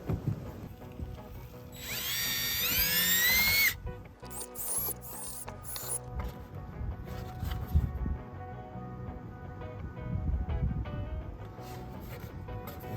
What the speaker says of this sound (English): Now I'll go ahead and use our larger bit that's provided.